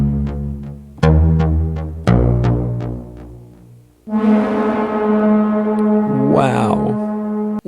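An IK Multimedia UNO Synth Pro desktop synthesizer sounds a huge, sustained single note: three loud re-struck attacks ring out and decay, then a long droning tone with a sweeping, rising-and-falling filter swell near the end.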